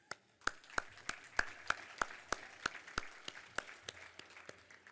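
Sparse applause from a dinner audience at a business hall of fame event, a dozen or so distinct claps spaced evenly and fairly faint in a large room.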